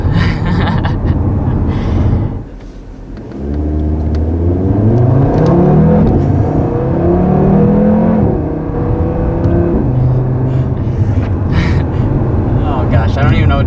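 A 2020 Audi TT RS five-cylinder engine, loud and close, dips briefly, then revs up in rising, warbling pulls that hang high before easing off, with a steady throaty drone underneath.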